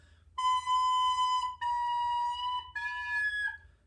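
Recorder squeaks from leaky, uncovered finger holes: three loud, shrill, overtone-rich squealing notes, each held about a second with short breaks between, and the last one wobbling and bending off pitch.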